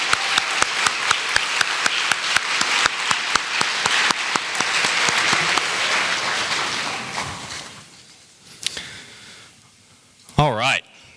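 An audience applauds in a large hall for the role models of student athletes at a championship night. The clapping is loud and sustained, then thins out, and a voice speaks briefly near the end.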